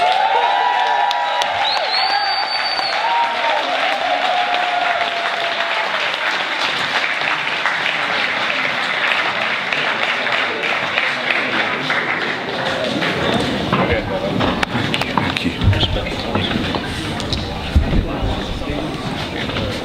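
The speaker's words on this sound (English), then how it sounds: "Could we give Brother Chakraman another round of applause, please?" An audience at an ALD 2016 gathering claps for a speaker, a sustained wash of applause that swells louder toward the end, with a voice speaking over it early on.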